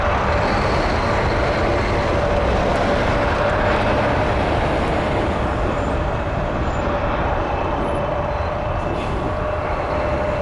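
An Air Canada Boeing 787-9 Dreamliner heading for Edinburgh from Toronto Pearson gives a loud, steady jet rumble with a constant tone running through it, unbroken for the whole span and with no voices.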